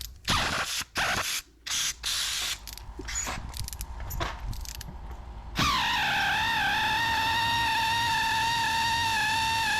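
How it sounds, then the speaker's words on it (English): Air ratchet straining to loosen a fused spark plug on a Porsche 911 991.1, uneven bursts of pneumatic rattling and hissing air, then a steady, loud, whining tone to the end. "You can hear the spark plug is still a bit fused in there. My little air ratchet is fighting it,"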